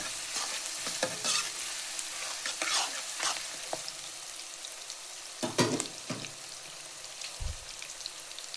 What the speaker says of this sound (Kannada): ಎರಡು ಸ್ಮಾಲ್ ಸೈಜ್ ಗೆಡ್ಡೆಕೋಸು ಕಟ್ ಮಾಡ್ಕೊಂಡ್ರೆ ಹಾಕೊಳ್ಳೋಣ. ಫ್ರೈ ಮಾಡ್ಕೊಳ್ಳೋಣ.